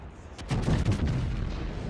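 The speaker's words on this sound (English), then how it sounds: "And there is a full salvo" World of Warships battleship fires a full salvo, a burst of heavy booming shots stacked close together into one rolling blast of low rumble that lingers, loud and near, with no talking.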